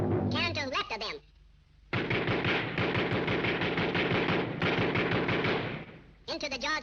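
Cartoon cannon fire from a 1935 Looney Tunes short, a dense, rapid barrage of loud repeated blasts in long sustained bursts, interrupted by brief pauses and voices.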